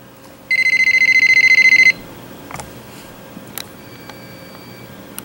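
A home alarm system drill sounds a loud, shrill electronic tone for about a second and a half, then cuts off, leaving a quiet room with a few small clicks and taps.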